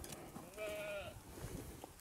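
A Honamlı goat in Antalya gives one short, nasal bleat amid steady background rustle and murmur on a farm with goat kids nearby.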